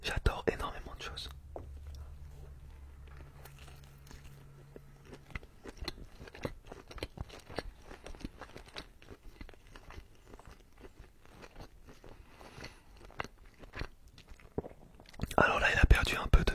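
Day-old McDonald's fried chicken eaten close to the microphone, with soft crunching bites and chewing under quiet whispering, a low hum at the start and a louder rustle near the end.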